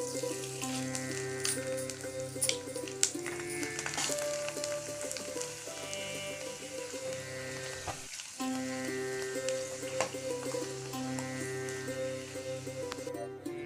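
Sandge and papad, sun-dried lentil dumplings and wafers, frying in hot oil in a kadhai, a continuous close bubbling sizzle with scattered crackles and a short dip midway, no talking.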